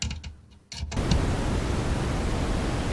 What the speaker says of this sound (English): that's how the white and pink from this modular system sounds like